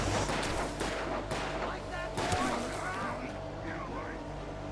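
Gunfire in the video game Alan Wake, a few sharp shots and heavy booms over a dense, rumbling game soundscape, loud and close with some background voice.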